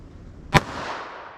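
A Ruger LCR revolver fires one 80-grain wadcutter round, .38 Special or .32 H&R Magnum. The single sharp, loud crack fades into a short echoing tail.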